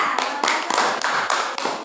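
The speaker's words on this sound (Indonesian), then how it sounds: "Ya, baik, tepuk tangan untuk kelompok 3." A classroom group of students claps for a group, a dense burst of many hands with sharp, rhythmic surges roughly every third of a second, loud and close throughout.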